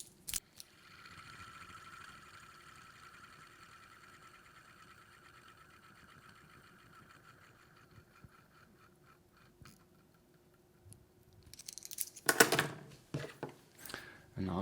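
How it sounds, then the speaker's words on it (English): A faint, continuous mechanical whirring from the spinning automatic rotor of a Citizen Promaster NY0120-52E watch hums for several seconds, followed by close handling clicks and rustles. "And now the noise of the rotor spinning here."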